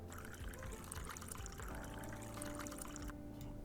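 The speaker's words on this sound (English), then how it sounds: "Pour hot water into the spout and from there and into the mug." Hot water pours steadily from a kettle through a spout into a mug, a quiet, continuous liquid stream heard close up with no talking.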